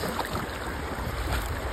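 Water rushes around a car stuck in deep floodwater, a steady, loud, broadband churning that holds without break for the whole moment, with no voices.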